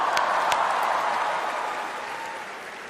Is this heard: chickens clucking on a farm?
no